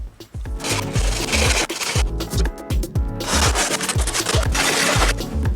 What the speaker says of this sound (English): I'm just going to file this straight and make it nice.